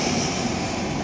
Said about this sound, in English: the airplanes are driving me absolutely nuts.